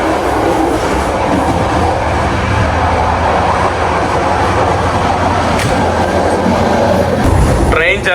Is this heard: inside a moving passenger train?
yes